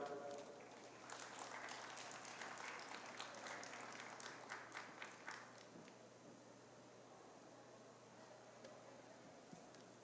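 Applause greets a master of ceremonies at a trade fair event in Algiers, faint and distant clapping that swells over the first few seconds and then thins out into low room hum.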